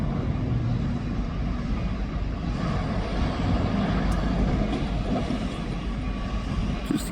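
Train rolling past in a no-horn zone as a van drives across the tracks in front of it, heard as a steady, loud rumble of wheels and engine noise with no horn and no talking.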